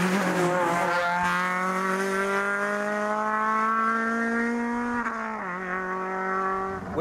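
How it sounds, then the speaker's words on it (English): Loud, close Honda Civic Type R Mugen Concept, a 237-horsepower hot hatch, driving with a steady high-pitched engine note that climbs gradually through a gear, then drops sharply at a shift before holding again. "It's called the Civic Type R Mugen Concept, and as you're about to hear, it is extremely loud."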